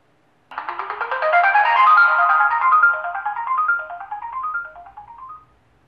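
Chime from a Netvue VIGIL 2 outdoor security camera during setup, a bright, clear, descending electronic tone sequence lasting several seconds, heard up close with no talking.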